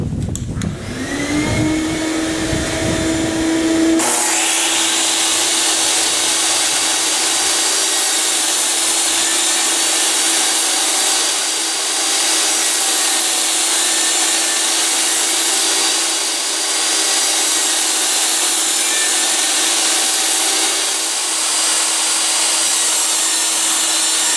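A saw with a crosscut sled and a stop block cuts many wood cross pieces for a workbench assembly table, a loud, steady, continuous whine running near and alone after a brief start-up.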